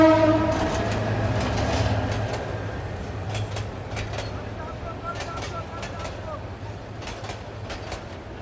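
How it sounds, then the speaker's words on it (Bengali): A morning train rumbles past a busy fish market with rhythmic clattering wheels and a steady low roar that slowly fades, while people talk in the background. "পাশ দিয়ে হচ্ছে ট্রেন চলে যাচ্ছে,"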